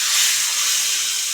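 Hot tempering of mustard seeds, curry leaves, red chilli, turmeric and asafoetida hits a Maharashtrian buttermilk kadhi mixture, giving off a loud, continuous sizzling hiss.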